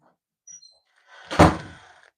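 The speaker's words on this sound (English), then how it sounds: "Shut that door." A door is pushed shut indoors with a single close, solid thump, preceded by a faint click and short sliding scrape, then quiet.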